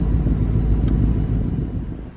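A 2018 Mustang GT with a Whipple Gen 5 Stage 2 supercharger and automatic transmission rumbles heavily on a dyno, a loud, steady, deep engine roar with no talking.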